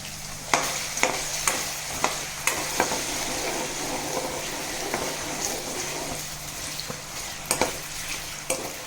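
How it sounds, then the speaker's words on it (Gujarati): Potato pieces frying alone in hot oil make a continuous close sizzle, punctuated by sharp clicks and scrapes of a spoon stirring the pan at irregular intervals, with no talking. "આપણે આવી ત્યાં બટેટાના પીસ છે એને એકલા તેલમાં સાતળી લેવાના છે"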